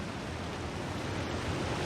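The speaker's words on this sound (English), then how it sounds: "Hello, waterfall. Nice to see you." Steady broadband rush of a waterfall in the survival game The Long Dark, a constant even roar heard alone with no voices or other events.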